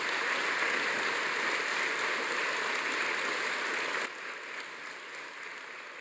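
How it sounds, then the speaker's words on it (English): A robust, hiss-like wash of applause from a ceremony audience thanking the staff, heard from a distance. It is dense and continuous, then drops noticeably in strength for its final stretch. "give ceremony staff a really loud, robust round of applause to thank them for all of their work"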